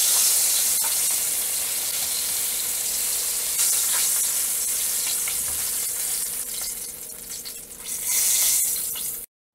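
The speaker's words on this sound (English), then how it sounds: "Now that we're done frying the pork belly," Pork belly fries in hot oil in a pan, a steady bright sizzle and crackle, close and loud, dipping briefly before cutting off abruptly at the end.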